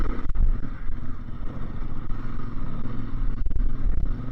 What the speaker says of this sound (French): au guidon d'une 450 CF moto